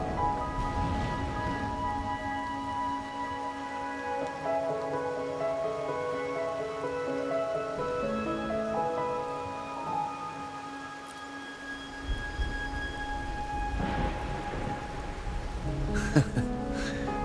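Steady rain patters in a Wuthering Waves game scene, a constant hiss beneath sustained musical tones, with a few sharper taps and swells near the end.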